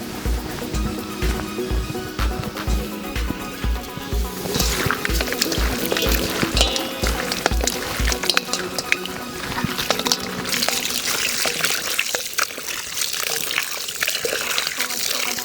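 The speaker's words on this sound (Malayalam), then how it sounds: "ഇതിൻ്റെ ചോരമയം മാറുന്നവരെ ഒരു 4-5 പ്രാവശ്യം നല്ലതുപോലെ കഴുകിയെടുക്കണം" Rabbit meat is rinsed in a bowl under running water, a continuous close gush and splashing with rhythmic sloshing early on as the meat is handled, carrying on for the full length with no clear speech.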